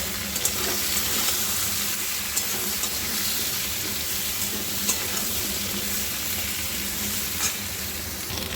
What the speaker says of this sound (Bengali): অল্প একটু হলুদ দিয়ে দেবো দিয়ে একটু ভেজে নেবো